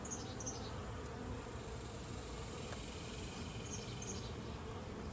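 Honey bees hum continuously around an opened hive with cross comb, a thick, even buzzing drone close by, with occasional individual bees whining past.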